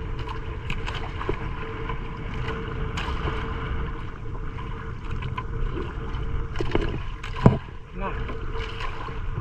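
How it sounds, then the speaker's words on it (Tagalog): A small fishing boat moves slowly across water with a steady low engine rumble and wind noise, water sloshing throughout and a brief knock near the end. "Dahan-dahan yung takbo ng bangka"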